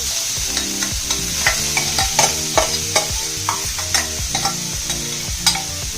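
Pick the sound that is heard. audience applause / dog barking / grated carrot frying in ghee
grated carrot frying in ghee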